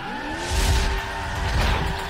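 Car engine in The Crew racing game, a loud sustained engine tone whose pitch rises and falls as it revs, with tire noise surging underneath, no talk.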